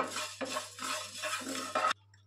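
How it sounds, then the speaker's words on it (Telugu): Curry leaves and cumin frying in a pan with dense, continuous sizzling for an ivy gourd chutney, the hiss loud and close before cutting off abruptly near the end. "కరివేపాకుని కూడా దోరగా వేయించుకోవాలి"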